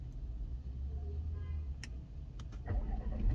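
A car engine is started by a long press on its push button, with a low, quiet cranking rumble under a few faint clicks before the engine catches and swells louder at the very end.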